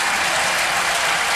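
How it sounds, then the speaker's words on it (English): A football stadium crowd at an Artmedia Bratislava versus Celtic match applauds a player leaving the field, a dense, steady roar of clapping throughout, loud and continuous. "And the fans too applaud."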